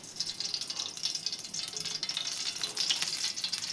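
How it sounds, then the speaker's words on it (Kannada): Cooking oil goes into a hot pan for tempering chavalikayi palya, giving a steady, moderately faint hiss and sizzle throughout with soft crackles and no talking. "ನಾನೀಗ ಎಣ್ಣೆ ಹಾಕ್ತೇನೆ ನೋಡ್ರಿ"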